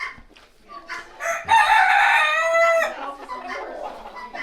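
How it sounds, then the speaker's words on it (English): A rooster crows loudly and close by, one long drawn-out call, with softer clucking and faint rustling around it. "the rooster?"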